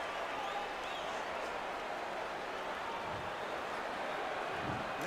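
Capacity crowd in a boxing arena in the video game Undisputed, a steady wash of cheering and applause that holds at an even level throughout before a fight.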